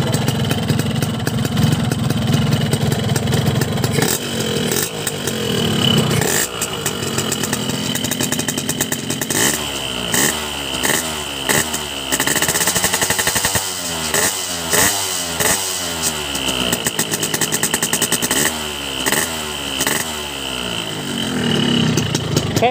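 A small Stihl two-stroke engine idles and revs roughly, its buzzing pitch repeatedly surging up and dropping back, loud and close throughout.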